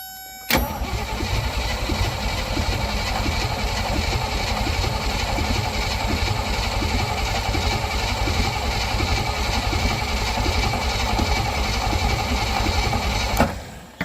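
An old Willys jeep engine that has sat unused for many years runs steadily and loudly, a continuous rough idle with a brief starting burst at the beginning, then cutting off near the end.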